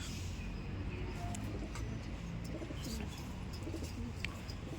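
Garebhaji pigeons cooing in soft, low, repeated calls against a constant noisy background, with occasional faint chirps and no clear talking.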